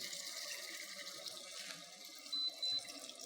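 Water pours steadily into a pot of mushroom and chestnut soup as it cooks, a continuous gentle splashing stream with a couple of louder surges near the end and no talk.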